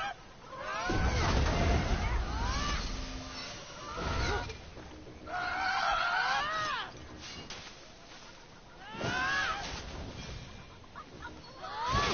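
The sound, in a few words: birds squawking in video game Immortals Fenyx Rising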